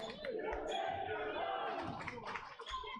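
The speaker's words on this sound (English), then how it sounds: "now we hear the KC Christian crowd saying you can't do that" A crowd of KC Christian fans shouts together at a girls' high school basketball sub-state championship, sustained loud voices in an indoor gym with sneaker and ball thumps underneath.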